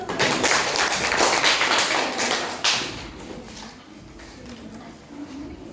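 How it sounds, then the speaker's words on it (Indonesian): A classroom of students clapping their hands together, a dense burst of claps that is loudest at the start and thins toward the end, with some voices mixed in. "oke, tepuk tangan dulu"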